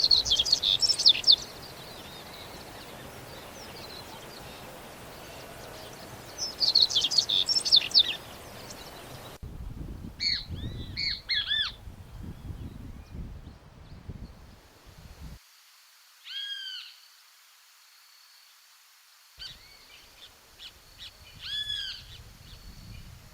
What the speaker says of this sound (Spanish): En los pastizales que bordean la calle encontramos varios pájaros y otras aves